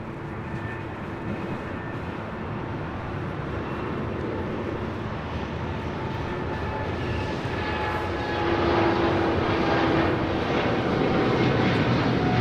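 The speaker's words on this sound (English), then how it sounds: "777 taking off to Tokyo Narita." A Boeing 777 jet roars steadily down the runway on its takeoff to Tokyo Narita, a broad, sustained engine rumble that swells louder in the final seconds, with no talking over it.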